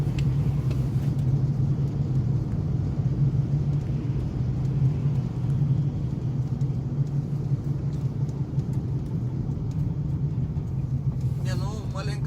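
Tagaz Vega C100 car engine, chip-tuned, pulling in first gear: a steady low engine drone and rumble that holds throughout at close range, with a brief higher rattle near the end.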